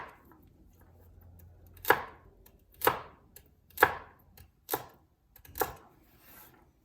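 A chef's knife dicing celery on a cutting board: five crisp, separate chops, each about a second apart, close and distinct against a quiet room.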